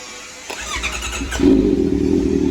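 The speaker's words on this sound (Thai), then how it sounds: "แต่สิ่งสำคัญนะครับทำการสตาร์ทรถเลยครับ" A Honda CBR650 motorcycle engine is cranked and fires at about 1.5 seconds, settling into a loud, steady idle with a low rumbling tone after a brief starter whir and clicks.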